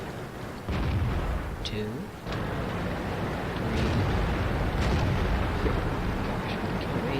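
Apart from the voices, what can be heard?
Firefly tank guns firing in a video game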